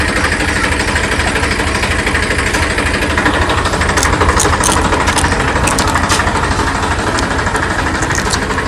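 A loud tractor engine runs steadily with a rough, chugging mechanical drone that never lets up, close by and alone without talk.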